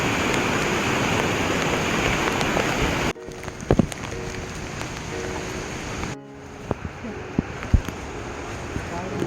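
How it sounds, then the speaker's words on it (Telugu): Heavy, continuous rain falls during an Adrai jungle trek: a loud, dense, steady hiss for the first three seconds, then a quieter wash with scattered close drops and knocks. "సో ఇక్కడ వర్షం ఫుల్గా పడుతుంది అండ్ కంటిన్యూస్ రైనింగ్"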